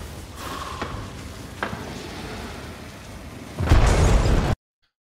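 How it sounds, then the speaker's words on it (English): A sticky bomb explosion in Hunt: Showdown: a few faint pops over a hissing, rain-like ambience, then a loud, close burst of roaring noise that cuts off abruptly. "Throw a sticky bomb down here."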